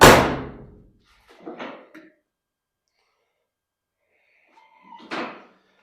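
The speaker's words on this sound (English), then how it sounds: "Close the door." A loud bang at the start decays quickly, followed by a couple of softer knocks and creaks, then another muffled thud with a faint squeak.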